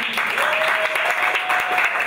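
A stand-up comedy audience gives a steady burst of applause, with a few voices mixed into the clapping.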